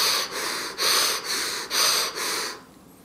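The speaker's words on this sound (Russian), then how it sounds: "все эти методы связанного учащенного дыхания" Rapid connected breathing exercise, as used in holotropic breathing and rebirthing: five or six quick, forceful breaths follow one another with only brief dips between them, loud and close, then stop abruptly.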